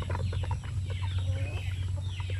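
Several Basilan native chickens cluck and murmur nearby over a steady low hum, with overlapping calls throughout.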